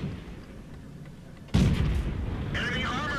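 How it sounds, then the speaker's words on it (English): A Somua S35 French medium tank cannon fires at a Panzer 2D in World of Tanks: one loud, sharp blast breaks over a low engine rumble and rings out into a lingering boom. "Shooting right into the Panzer 2D."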